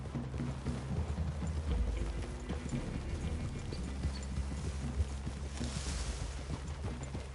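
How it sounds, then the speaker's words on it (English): Horses' hooves clip-clop steadily in the video game Red Dead Redemption, with several horses moving together at a walk, close and continuous over low ambient rumble. "I'd leave your horses the other side of this clearing."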